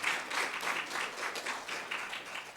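Church congregation applauding children during a Sunday worship service, a short burst of steady, moderately loud clapping with rhythmic swells throughout.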